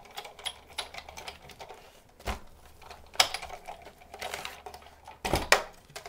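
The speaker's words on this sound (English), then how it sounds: "and then run it through the Big Shot." Big Shot die-cutting machine cranking cardstock through an embossing folder, producing uneven clicks, rattles and sharper clunks as the handle turns, close and fairly quiet.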